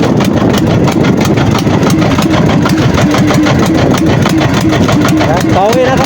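A fishing boat engine runs at sea, loud and steady with a rough pulsing drone, while a person talks over it.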